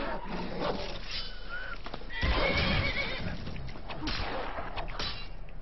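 Horse in the Skyrim video game whinnying loudly amid hooves and game commotion, a short burst of neighing and stamping hoofbeats with a swishing strike midway, close and prominent over the background ambience.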